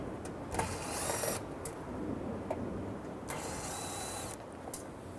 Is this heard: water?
no